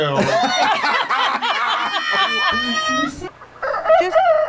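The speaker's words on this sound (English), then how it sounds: "okay, what is he saying with this crow?" A rooster crows in loud, drawn-out harmonic calls that fill most of the clip, followed by a shorter rising cry near the end, with no talk over it.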